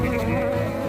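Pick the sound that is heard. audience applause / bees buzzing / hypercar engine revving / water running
bees buzzing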